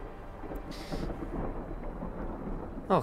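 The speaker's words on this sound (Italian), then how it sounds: "Piove. Fulmine." Thunder rumbles over steady rain in the video game Sons Of The Forest, a low continuous roll under the hiss of falling rain with a short sharp crack at the end.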